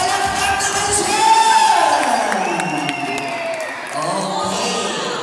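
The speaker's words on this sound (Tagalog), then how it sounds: "Palakpak naman siya!" Cheering and applause at the De Castro clan family reunion for an honoree, a lively crowd of mixed voices shouting and whooping over clapping, loud and close, with people talking throughout.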